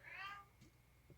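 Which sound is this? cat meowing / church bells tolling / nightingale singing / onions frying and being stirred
cat meowing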